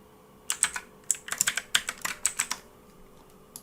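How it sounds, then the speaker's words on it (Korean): Bursts of keyboard typing, quick clustered key clicks in several runs with short pauses, close and clear, no voices. "타이핑으로 치셔도 되고요."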